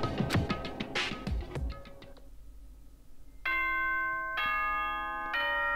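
A doorbell-style ding-dong announcement chime from the video game Danganronpa rings out in bright sustained tones, following a burst of clattering game sounds and a quiet pause.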